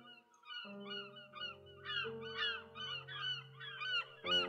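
Seagulls cry in repeated harsh, nasal squawks, several overlapping calls rising and falling at a modest distance.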